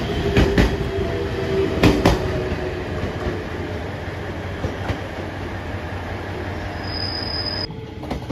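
A JR Shikoku 7000 series two-car local electric train bound for Takamatsu rolls steadily past at close range, with wheel clatter over rail joints, a few sharp clicks and a continuous low rumble that drops away near the end.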